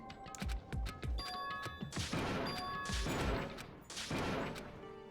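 Dogs wrestling roughly indoors, throwing each other around, with repeated heavy thuds, bumps and long scrambling bursts of noise, loud and close, with no voices over them.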